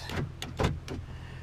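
Door lock actuators on a 2001 Ford F-250 Super Duty snapping in three quick, close mechanical clunks within about a second.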